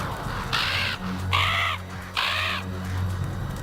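Crows in the 2007 horror film Kaw give three harsh, loud caws in quick succession over a low, steady droning hum.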